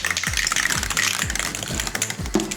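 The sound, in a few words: spray cans being shaken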